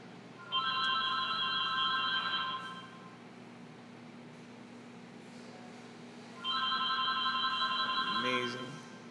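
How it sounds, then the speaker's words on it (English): Telephone ringing in a busy art gallery, two rings of about two seconds each several seconds apart, fairly faint over a steady hum of room noise and background chatter. "Phone's ringing during our basso."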